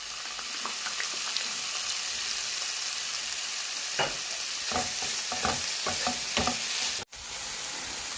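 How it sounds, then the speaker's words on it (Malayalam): Chicken spring roll filling stir-fried in a pan, with a continuous sizzle and a series of close, sharp spatula scrapes and clacks in the second half, then a brief dropout. "ഇതൊന്ന് ജസ്റ്റ് ഒന്ന് ഇതിനകത്ത് കിടന്നു എല്ലാം ഒന്ന് നന്നായിട്ട് മിക്സ് ചെയ്യണം."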